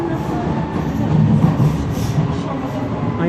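A London Underground Jubilee line train pulling out of West Ham, a loud continuous rumble of wheels and motors with faint rail clatter, heard close.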